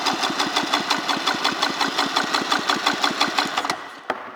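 A 1994 Polaris SL 650 freshwater watercraft engine cranks over for a compression test, a rapid steady rhythmic chugging of even pulses, close and clear, before stopping abruptly with one final knock.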